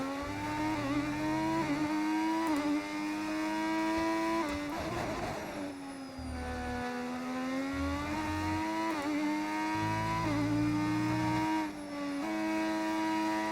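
Formula 1 race car engine from the F1 25 racing game, a steady high-pitched whine that rises and falls with gear shifts through corners, loud and continuous with no talk.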